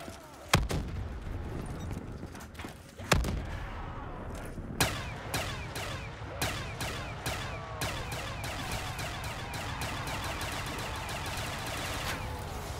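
Gunfire from a weapon in Black Ops 3 custom zombies: a few heavy isolated shots, then a rapid, continuous burst of automatic fire that keeps going, loud and close over dense game noise.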